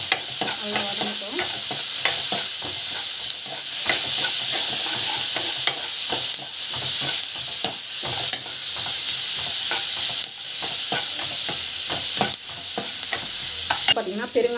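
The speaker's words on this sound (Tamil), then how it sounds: "ஆனியன் வந்து போட்டுட்டு நல்லா வந்து வதங்கட்டும்." Onions sauté in hot oil for pasala keerai thalippu, a loud, constant sizzle up close with quick, busy scrapes and stirring strokes throughout.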